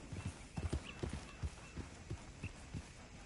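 Horse hooves clip-clop at an even trotting pace in Red Dead Redemption 2, a steady run of soft thuds that sit fairly quiet in the mix with no voices.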